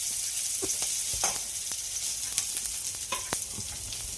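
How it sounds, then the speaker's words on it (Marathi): Chopped onion frying with cumin in a pan, a soft continuous sizzle close by, broken by occasional light clicks of stirring, with no talk. "कांदा चांगला म्हणजे असं परतून घ्यायचा आहे लाल भडक होईपर्यंत"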